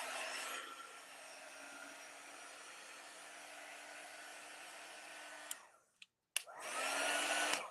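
A hair dryer-style drying tool blows steadily over a wet paint transfer just peeled up, a loud continuous whoosh with a low hum that cuts off near the end, pauses briefly, then starts again.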